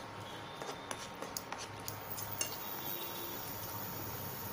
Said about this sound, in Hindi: ये मैं मिक्स कर रही हूँ।